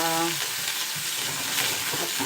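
Onion, ginger, garlic and shallot sizzle steadily in hot oil, a continuous close frying hiss with light stirring, no talk.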